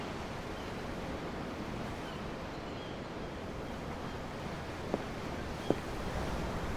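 Ocean waves from the Tales of Arise video game wash steadily as soft, even surf, with a constant hiss and rush and two faint clicks near the end.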